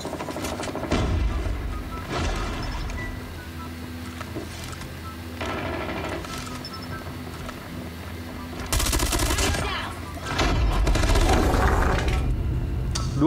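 Rapid automatic bursts from an FFAR 1 assault rifle in a video game, several fast rattling volleys of gunfire separated by short pauses, loud and close, with someone talking over the action.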